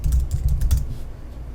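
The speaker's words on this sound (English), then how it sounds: "You can just type it in here." Fingers tap a computer keyboard in a short, close flurry of keystrokes that fades out after about a second.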